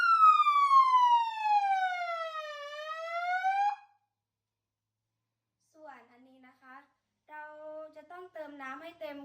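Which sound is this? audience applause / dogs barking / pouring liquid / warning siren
warning siren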